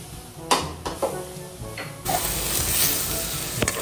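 Canned Century Tuna goes into a pan that still holds oil; a few metallic clanks of pan and utensil come first, then a steady, close, loud sizzle of frying takes over.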